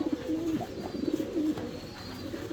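A red male running pigeon coos in low, repeated throaty bursts while being turned over in the hands, close and clear over a soft rustling background.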